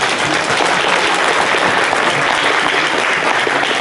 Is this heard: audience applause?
yes